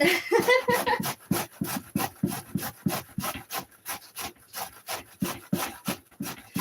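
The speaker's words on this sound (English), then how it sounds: "So we're just going to keep grating and grate on." Cabbage rubbed by hand over a grater in a kitchen, a steady rhythm of rasping strokes at about two per second, close and fairly loud, with no talk.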